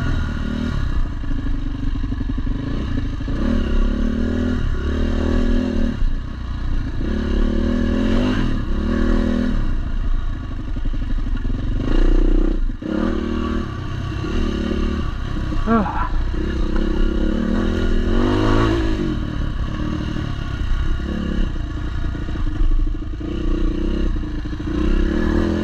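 A Yamaha WR400F dirt bike ridden on trails, its engine droning loudly and steadily throughout with revving surges, clattering and scraping from the terrain, heard up close while a rider talks over it.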